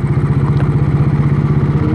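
A motorcycle engine thrums steadily and loudly at close range as the bike cruises along a rough rural road, its low pulsing drone constant throughout without any talk.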